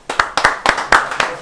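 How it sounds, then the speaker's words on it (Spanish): Sharp rhythmic hand clapping from a small group applauding the winner of a quiz round, a burst of about a dozen claps across a second and a half, close and fairly loud. "Un aplauso también fuerte para él"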